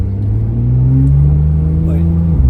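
A 2015 Porsche 911 Turbo S (991.1) fitted with a 3-inch exhaust runs close and loud with a steady low engine drone that rises slightly in pitch, while a voice speaks briefly over it.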